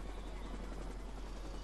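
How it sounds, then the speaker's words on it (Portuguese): A helicopter in the driving video game The Crew gives off a steady, low, throbbing rotor drone that holds constant and fairly faint, with no talking over it. "O helicóptero ali,"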